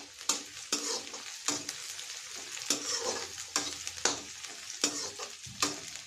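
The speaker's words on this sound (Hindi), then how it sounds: "इसको हल्का ब्राउन आने तक पका लेंगे प्याज को।" Onions frying in a pan toward light brown for a garlic curry, close sizzling under a regular series of sharp spatula scrapes and knocks, about one every second.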